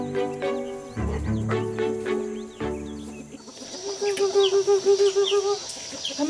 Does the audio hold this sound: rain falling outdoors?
no